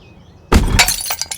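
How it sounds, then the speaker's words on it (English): Pottery packages drop and shatter in one sudden loud crash, followed by a quick scatter of clinking, tinkling shards over about a second. "I hear packages fall and pottery shatter"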